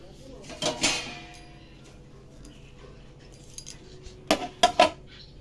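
A lid goes onto a clay pot in a home kitchen, heard as a few sharp clinks and clatters near the start and a louder cluster of metallic knocks near the end, with quiet room noise between.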